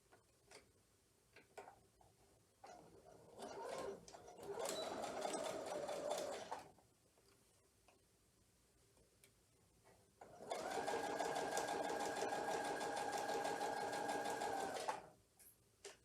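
A sewing machine runs in two distinct bursts while stitching a herringbone quilt block, a close, steady mechanical whir of roughly two and four seconds separated by quiet fabric handling and faint clicks.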